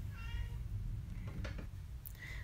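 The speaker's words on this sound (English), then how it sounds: "Let me go see what my cat wants." A house cat meows in a few short, faint calls spread across the stretch over a low background rumble, with no talking.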